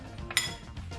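Bruschetta topping with oregano and olive oil being mixed in a bowl, a single sharp clink of utensil against the dish amid soft, brief stirring sounds, close up and without speech.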